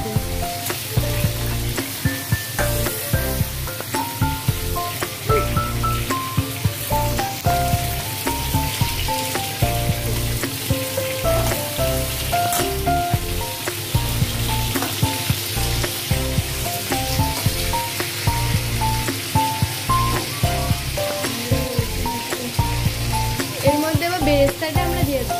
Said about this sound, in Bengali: দিয়ে সেটাকে তেলে এখন ভেজে নিচ্ছি হালকা ফ্লেমে